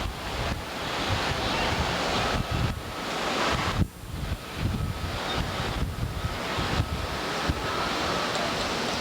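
Ocean surf on Oahu, Hawaii, rolling and washing steadily as heard from a hot tub deck, a loud continuous roar of breaking waves mixed with gusty wind buffeting the microphone, with no talk.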